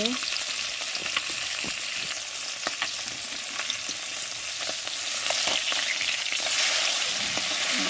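Rohu fish pieces frying in a pan with a steady, loud sizzle and crackle throughout, spiked by occasional pops and the scrape of stirring, with no voices.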